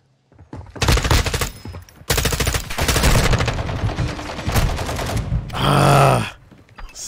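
Rapid automatic gunfire in a Modern Warfare 2 team deathmatch, loud and close, in three long sustained bursts with short gaps and a final heavier blast near the end.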